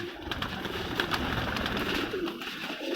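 Flight-record pigeons kept by a fancier coo repeatedly nearby, soft low throaty calls overlapping with light rustling and scattered clicks in the background, and no one speaking.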